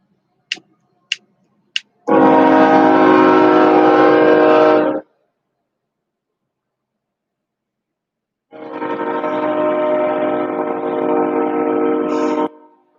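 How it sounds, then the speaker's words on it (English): Three short sharp clicks come first, then a loud, sustained train horn blares for about three seconds. After a silence a second long horn blast sounds, close and powerful, with a steady rich tone. "Train."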